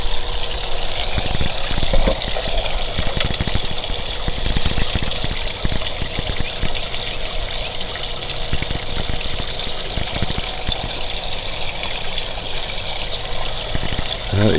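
Water runs continuously through a gold sluice loaded with creek dirt, a steady rushing trickle heard close and alone, with faint intermittent knocks underneath.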